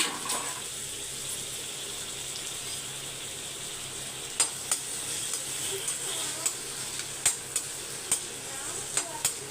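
Turkey berries (sundakkai) sautéing in a spoonful of oil in a home kitchen, a steady low sizzle with a few sharp ladle clinks against the pan, close and alone.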